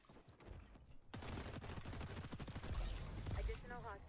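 Rapid MDR assault rifle fire in a video game, a dense burst of close, loud shots rattling for several seconds, with a voice talking over part of it.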